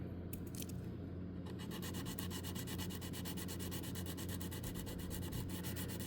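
A sanding stick works carefully over a part of a U.S.S. Enterprise D model starship near the Bussard collector, giving a steady close-up rasping scrub with rapid, even back-and-forth strokes throughout.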